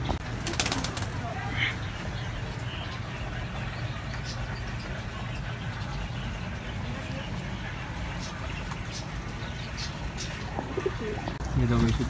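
Pigeons coo softly and steadily on a rooftop water-tank setting where the birds bathe, a low rumble of an idling engine running beneath throughout.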